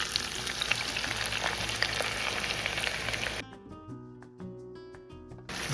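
A potato and onion mixture for a Spanish tortilla drops into hot oil with a loud, broad sizzle that cuts off abruptly partway through, leaving quieter pan noises before the frying hiss returns.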